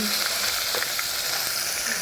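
Onion hitting hot oil seasoned with a pinch of salt sets off a constant, dense frying sizzle, with a few faint clinks of stirring.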